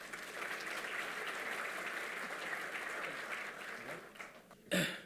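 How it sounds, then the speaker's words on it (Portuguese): A conference audience in a large hall claps steadily for about four seconds. The applause then thins out and stops, followed by a brief burst of noise near the end. "Peço uma salva de palmas."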